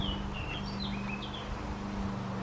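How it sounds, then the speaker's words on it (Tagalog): Small birds chirp outside a cottage in Sweden, giving a few thin, high tweets at moderate distance over a low steady hum and faint background rustle, with no talking. "naririnig nyo yung ibon."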